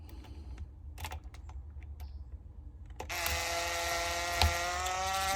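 A bolt is being tightened on an Echo CS-620PW chainsaw, with scattered close clicks and taps giving way to a steady, fast ratcheting whir that runs to the end without talk.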